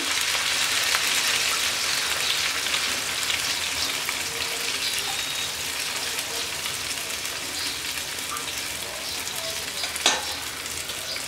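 Beaten egg mixed with sweet pumpkin flowers sizzles in a pan, a continuous close frying hiss with faint crackles and one sharp clink near the end, with no voices.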